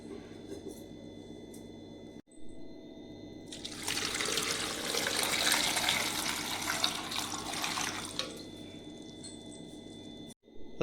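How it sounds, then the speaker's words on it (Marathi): Water poured from a tap or jug into a pressure cooker holding potatoes, a steady splashing rush that swells loud in the middle and tapers off, set against faint kitchen background. "जेवढं पाणी लागेल तेवढं पाणी टाकायचं आहे।"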